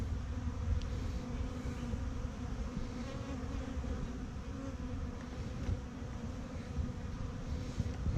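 Honeybees buzzing in a dense, continuous swarm drone at the entrance of a gentle hive, close and steady for the whole stretch with no talking.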